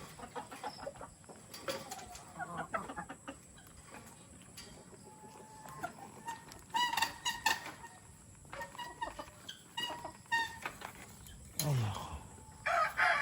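Chickens and a rooster on a Philippine home property, with clucking and scattered calls through the clip and louder crowing bursts near the end, heard fairly close with no talk over them.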